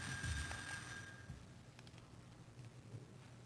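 A single bell rings briefly at the start of a Philadelphia City Council budget hearing, a faint tone fading after a second, leaving a quiet room.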